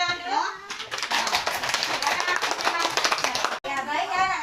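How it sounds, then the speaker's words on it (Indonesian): Children in a classroom clapping their hands together, a brisk, dense patter of claps with children's voices mixed in, ending abruptly before talk resumes. "Beri tepuk tangan dulu."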